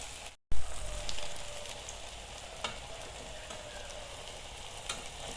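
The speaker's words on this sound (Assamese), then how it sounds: "তেলত ফ্ৰাই কৰি দিছোঁ।" Cut pieces of taro leaf fry in hot oil, heard as a close, steady hiss and sizzle with scattered pops after a brief silent gap at the start, with no voices.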